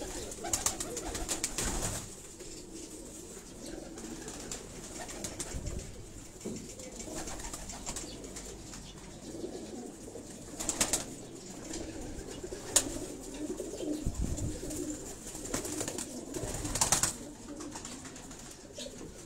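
Breeder pigeons on a rooftop in Karachi coo repeatedly in low, throaty rolls, with a few sharper clicks and flutters among them, all close by and with no speech.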